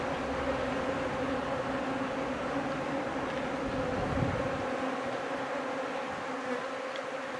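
A swarm of Japanese honeybees flies around timber, making a steady, dense buzzing hum that fills the air evenly from start to finish, with no voices.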